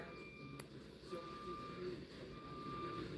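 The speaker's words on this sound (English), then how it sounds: "Backing up down my alley, that's the trash truck." A trash truck backs down an alley, its steady reversing beeps sounding faint and distant beneath a constant low rumble of engine and street noise.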